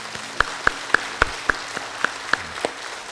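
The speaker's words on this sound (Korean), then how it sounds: "오늘 영접하신 분들을 위해 소리 한번 축하의 박수 드리겠습니다" A church congregation gives a short round of applause, thin and sparse, with individual claps landing in a loose rhythm about every quarter second.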